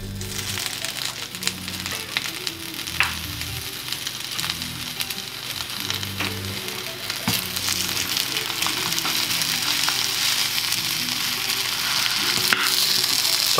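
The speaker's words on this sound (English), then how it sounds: "once you've cut your ribs into strips, you'll just want to pop them back into the pan." Strips of vegan ribs frying in a pan, a steady close crackling sizzle with occasional stirring scrapes, growing slightly louder over time, no voices.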